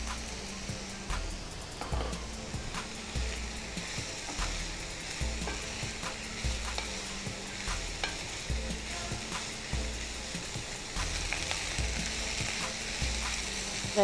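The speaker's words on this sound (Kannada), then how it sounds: "ಈಗ ನಾನು ಹೆಚ್ಚಿದ ಕ್ಯಾಪ್ಸಿಕಮ್ ಅದನ್ನು ಆ್ಯಡ್ ಮಾಡ್ತೀನಿ" Chopped capsicum and onions fry in a pan with a continuous crackling sizzle, overlaid by rapid, rhythmic scraping and tapping from a utensil stirring against the metal, close and steady throughout.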